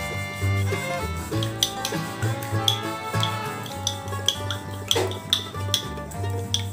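A fork beats eggs with salt in a bowl for an egg tadka, making quick, rhythmic clinks and taps against the sides over a low steady hum, close by and moderately loud, with no speech.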